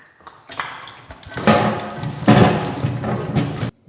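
Running water splashes in a kitchen as onions are washed, with uneven gushes that swell and fade, moderately close, before cutting off abruptly.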